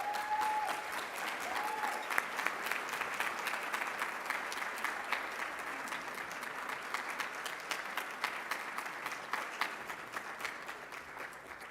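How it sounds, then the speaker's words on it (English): An audience at a gala evening claps to welcome a speaker to the stage, steady, moderately loud applause of many hands throughout, with a few faint voices mixed in near the start. "Everyone, please give him a round of applause."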